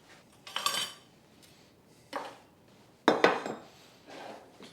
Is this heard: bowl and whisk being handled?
yes